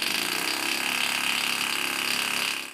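A homemade compressed-air piston engine runs steadily, giving a fast, even mechanical buzz with rapid rhythmic clicking, close and continuous until it fades slightly at the end.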